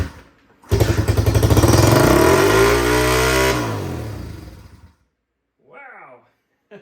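A 1980 Honda XR75 dirt bike firing up after years unused, its small engine catching abruptly and revving hard and steady for several seconds before dying away, followed by a brief short rev.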